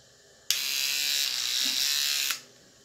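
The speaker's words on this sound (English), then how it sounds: "toothbrush is about to explode" An electric toothbrush switches on and runs for almost two seconds with a harsh, loud buzzing rattle that sounds abnormal, then cuts off abruptly in a quiet room.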